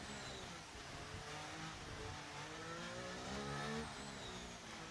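A McLaren race car in a racing video game passes by at Miami, its engine a steady mid-pitched drone with rising harmonic sweeps as it approaches and swells slightly louder before easing off, with no talk.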